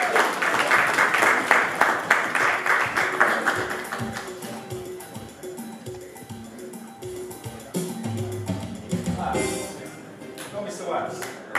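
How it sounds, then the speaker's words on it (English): Applause from an audience at an awards-style ceremony as fourth place is announced: dense clapping fills the opening seconds, then fades under someone talking over the room. "Round of applause, please."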